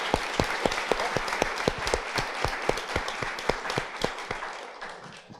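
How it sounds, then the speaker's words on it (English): Audience at a startup talk on product-market fit gives a round of applause, with distinct individual claps standing out above a steady wash of clapping that tapers off toward the end. "round of applause"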